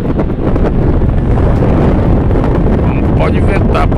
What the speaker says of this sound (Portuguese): Pode ventar, pode soprar forte vento